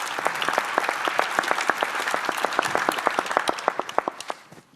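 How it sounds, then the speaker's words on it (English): A conference audience at a 5G event gives a warm, steady round of applause for a speaker, many hands clapping densely before it thins and fades out at the end. "A very warm applause again for Philip."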